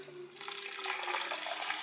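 Motor oil pours from the drain plug opening of a Dodge Stratus fitted with a spark plug insert, a steady liquid splash and trickle into a pan, moderately close and continuous with a faint hum underneath.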